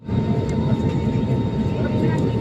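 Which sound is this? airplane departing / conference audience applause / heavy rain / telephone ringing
airplane departing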